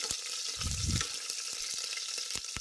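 Green chilies with bay leaf, star anise and other whole spices frying in oil for biryani, a loud constant hiss with sharp pops and a brief low thump near the start.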